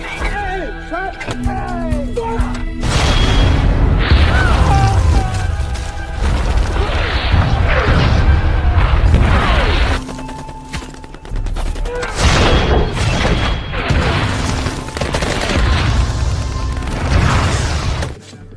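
An artillery barrage in a Vietnam War battle film erupts in continuous loud explosions and rapid gunfire, dense and rumbling throughout, with voices heard over the battle.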